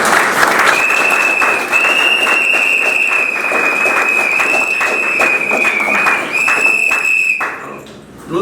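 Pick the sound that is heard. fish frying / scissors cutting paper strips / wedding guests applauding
wedding guests applauding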